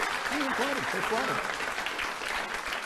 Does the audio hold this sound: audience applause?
yes